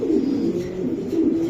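A racer pigeon coos close by, a continuous low, throaty rolling murmur that swells and dips without pause.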